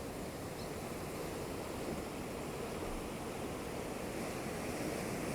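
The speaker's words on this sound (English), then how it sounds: "as you're watching this lovely ocean" Ocean waves wash in a steady, broad roar of surf, constant and fairly faint, with no voices or distinct breaks.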